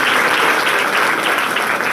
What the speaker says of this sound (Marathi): आपण जोरदार टाळ्या वाजवून त्यांचं अभिनंदन करूया